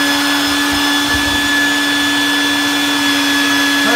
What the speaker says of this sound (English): I'm gonna put on my vacuum, I'm gonna turn on the sander